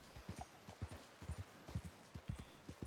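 Horse hooves clip-clop in Red Dead Redemption 2: a steady, even walking rhythm of paired thuds, close and moderately loud, with no voices over it.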